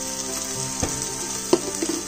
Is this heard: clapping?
no